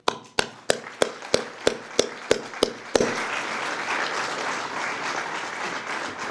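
A run of about ten slow, evenly spaced claps sets the beat before full audience applause breaks out at a grant awards presentation. The crowd then claps steadily and loudly without any talk over it.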